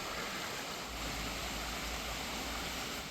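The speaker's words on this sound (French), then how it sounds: "on entend déjà l'eau, parce qu'il y a le petit ruisseau qui passe ici là." A small stream in French Polynesia, just off a road, gives a steady, faint rushing wash of water with a slight low rumble beneath, continuous and unbroken throughout.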